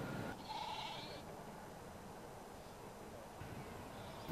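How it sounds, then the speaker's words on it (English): Hebridean sheep, a rare lightweight breed grazing a wetland site in London, give a brief faint bleat or two over a steady outdoor background hum. "They're Hebridean sheep, so they're a rare breed."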